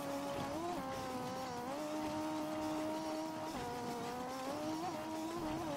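A motorcycle climbing uphill with its engine droning steadily, the pitch rising and dipping as it labours and shifts, close and continuous with no speech.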